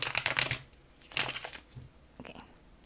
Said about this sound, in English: So I am gonna shuffle it again just because.